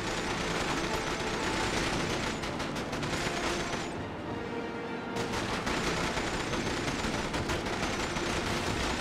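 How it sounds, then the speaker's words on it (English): Dense, continuous gunfire from an automatic turret on a ship in a 1960s-style spy video game, loud and unbroken apart from one brief lull midway, with no voices over it. "they have an automatic turret on there"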